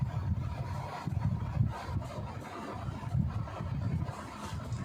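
Blouse lining fabric is cut for the back piece, giving a soft, repeated rubbing and snipping rasp close to the microphone in irregular strokes, with no talking.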